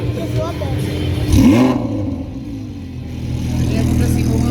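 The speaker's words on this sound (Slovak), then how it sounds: "Jazdí auta." Cars drive past on an Italian-themed motoring event, a steady engine drone with one clear pass that swells and sweeps downward in pitch midway, under continuous background noise.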